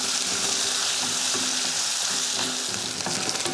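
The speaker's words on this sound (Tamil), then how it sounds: "அதையும் நல்லா வதக்கிடுவோம்." Shallots and garlic cloves sauté in a hot pan with a steady, dense sizzle and occasional stirring scrapes; no one speaks.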